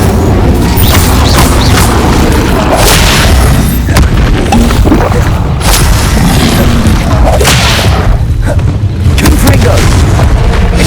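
Spell blasts in Hogwarts Legacy during a Summoner's Court match, a rapid string of booming bursts and whooshing hits repeating every second or two, loud and dense, with occasional spoken incantations mixed in.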